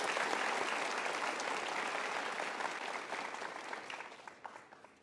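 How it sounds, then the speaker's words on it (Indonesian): Studio audience on a motivational talk show breaks into a full round of applause, dense and steady at first, then thinning and fading with a few scattered claps at the close. "Kita berikan tepuk tangan sekali lagi untuk sahabat-sahabat super kita."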